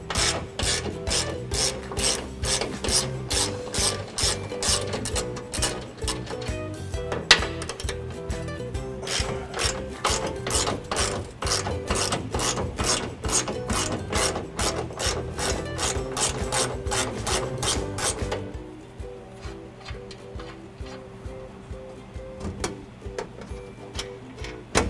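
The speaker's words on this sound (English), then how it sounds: "Loosening the hardware on the driver's side." Hitch mounting hardware being loosened on a 2015 Ford F-150 during a trailer hitch install, likely with a ratchet: a fast steady run of rasping clicks for about eighteen seconds, close and fairly loud, then quieter background.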